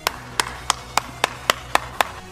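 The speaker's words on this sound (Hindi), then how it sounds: "चलो इसी बात पर ठोको ताली" Crisp clapping sound effect, eight evenly spaced sharp claps in a steady rhythm, close and clear with nothing else around them.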